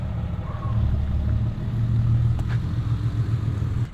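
A Subaru used as a work car for a home renovation, its engine rumbling low and steady at close range for a few seconds, with no talk over it.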